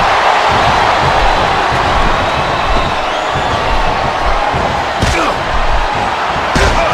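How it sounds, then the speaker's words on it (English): A wrestler slammed onto the mat in Smackdown Vs. Raw 2009 on PS2, a loud arena rumble with a sharp impact thud and a second hit later, over steady crowd noise. "Sound of human flesh on the ground echoes around the arena."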